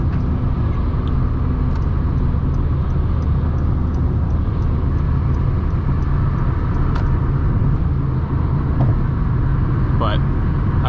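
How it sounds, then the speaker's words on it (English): A 2012 Honda Civic EX cruises downhill, heard from the cabin as a steady low road and engine drone with tyre rumble and no distinct revving. A voice speaks over it. "we're on a decline and the car does reach cruising speed very quickly."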